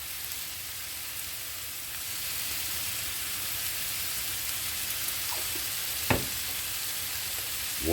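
Homemade tortilla shells fry in a pan with a steady, even hiss of sizzling, close but fairly quiet, broken by a couple of brief clinks, with no talking.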